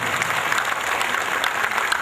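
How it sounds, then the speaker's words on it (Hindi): An audience at a Hindi kavi sammelan poetry gathering during a Swadeshi fair breaks into loud, dense applause, steady and close throughout. "एक बार जोरदार तालियां बजाएं ताकि हम कवि सम्मेलन की सफल शुरुआत कर सकें"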